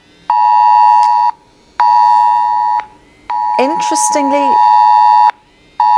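UK Emergency Alert system test tone on a mobile phone: loud, steady electronic beeping in long on-off bursts, about a second each with short gaps, while someone speaks over the middle burst.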